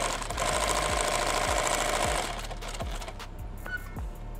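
A sewing machine hems fabric for a Thermacell pouch, giving a steady close mechanical whir with soft low thumps roughly every half second that eases slightly quieter toward the end.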